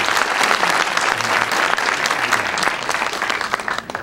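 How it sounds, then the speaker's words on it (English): Steady audience applause at a senior advocacy leadership event, dense and loud throughout, tapering slightly near the end with no voices over it. "Let's give them a round of applause."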